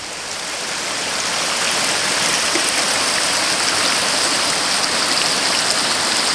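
The Conway River rushes steadily through an isolated forest, a dense, continuous flowing-water roar that swells in the first seconds and then holds loud and unbroken, with no voices.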